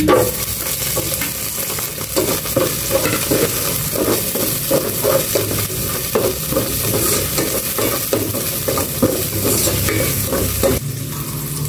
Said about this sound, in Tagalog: Magisa na ako ng bawang